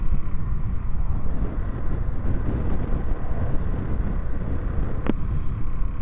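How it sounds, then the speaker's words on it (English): A Suzuki DR-Z4S dual sport motorcycle rides along with a steady low engine drone heavily buried in wind rush, constant and close, with one brief sharp tick near the end. "first ride on the new DR-Z"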